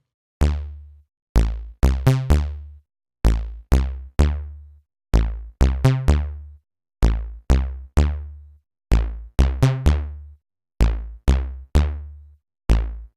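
Repeated plucky disco-style synth bass notes, each opening bright then quickly closing down via a filter envelope, in a steady rhythmic pattern with short gaps.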